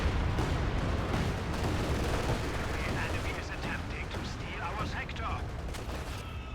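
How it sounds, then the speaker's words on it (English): A Werfer rocket artillery barrage in Company of Heroes, a continuous rumbling roar of launches and explosions with crackling impacts, dense and sustained, with voices talking over it. "Werfer Barrage immediately coming in against the MG."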